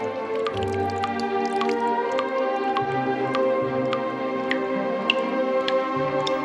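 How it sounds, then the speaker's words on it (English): Water drips from stalactites in a cave, sharp, irregular drops plinking one after another over a soft tonal musical backdrop. "water trickling down along the stalactites from above"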